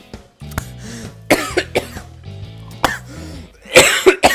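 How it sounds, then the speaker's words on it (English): A person coughs in a burst of sharp, close hacks, clears the throat and coughs again near the end, with a low steady hum underneath. "I just started coughing"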